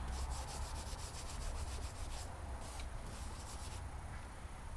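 Embossing powder is rubbed over chalkboard cardstock with a steady, close, continuous scratchy rubbing, fairly quiet, with no voices.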